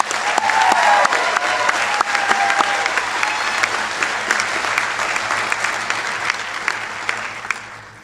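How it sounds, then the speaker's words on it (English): Steady, dense applause from an audience at a commencement ceremony fills the hall, loud and continuous, with occasional whistles riding over the clapping before it eases slightly near the end. "Let's give him one more round of applause."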